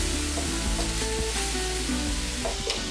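Ribbons of carrot cut like tagliatelle hit a hot pan and sizzle, a dense, even crackling hiss that runs close and loud without pause and without any talking.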